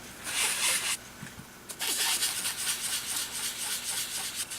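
Strokes of a new sponge dragged across paper make loud, harsh scraping rubs close by, two long passes separated by a brief pause with a few small knocks.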